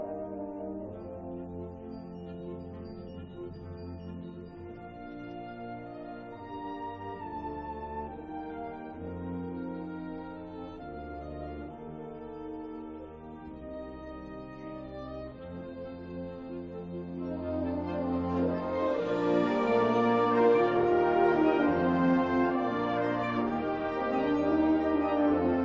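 High school wind symphony ensemble playing a theme together, full sustained brass and woodwind chords that swell louder and brighter toward the end, no speech.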